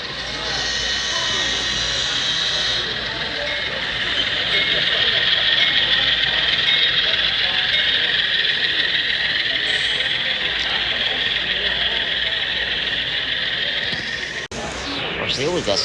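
A model train runs past on a show layout with a steady metallic hiss and whir. The sound is loud and continuous and close by, then cuts off abruptly near the end into a brief different noise.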